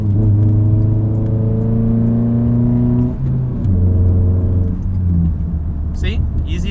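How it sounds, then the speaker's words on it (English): A manual car accelerates hard after a downshift into third gear, engine note rising in steady harmonic layers, dipping briefly at the clutch change before climbing again; loud and close throughout, with no talk. "once I'm in third gear, I dump the clutch and go"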